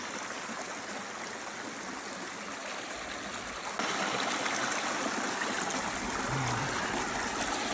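A mountain stream flows steadily in cool shaded water, a continuous broadband rush of running water close by that grows slightly louder midway, with no voices.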